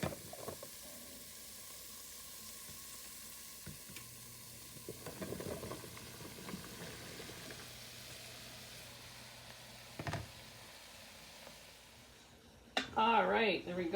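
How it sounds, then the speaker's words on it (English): Mushrooms tipped into a pot of sweated-down onions and garlic for creamy mushroom soup, giving a soft steady sizzle with stirring scrapes and a few clunks, ending in a louder burst of frying; quiet overall. "we're going to just take that bowl of mushrooms and add them in"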